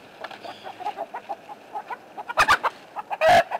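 Backyard chickens cluck softly in a steady patter of short, close calls, broken by a couple of louder, sharper squawks near the end.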